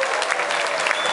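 Applause from an audience at a Rotary district governor's inauguration ceremony, a dense, steady burst of many hands clapping in a hall, fairly close, with no voice over it.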